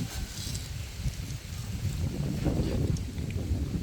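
Cold wind gusts steadily across an outdoor microphone near a straw mushroom growing area, making a loud, continuous low rumble with buffeting throughout and no talk.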